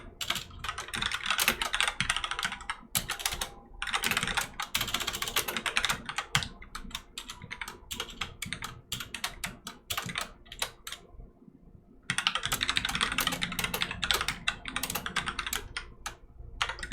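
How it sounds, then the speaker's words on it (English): Someone typing a C++ program on a computer keyboard, close and crisp rapid key clicks in busy runs broken by short pauses, with no talking. "and we'll just type in our program."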